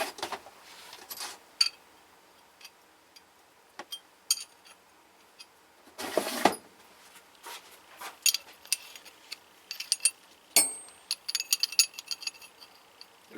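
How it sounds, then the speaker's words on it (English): A ratcheting wrench clicks back and forth on a bolt in short, sparse bursts of metallic ticking, close by and fairly quiet, with scattered small clanks between. "you can just ratchet back and forth on it"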